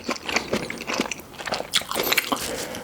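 Crunchy bites into a McDonald's Rich Potato burger, a Christmas limited item, come up close in a run of repeated crisp bites and chewing, with no talk.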